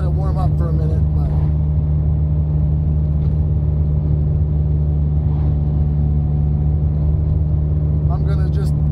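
A turbocharged daily-driven car running 16 psi of boost idles while warming up, giving a steady, loud, low rumbling drone that holds without revving, as someone talks near the start and end.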